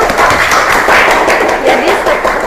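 Students clapping together in a high school classroom, a dense, steady round of applause lasting a couple of seconds, loud and close.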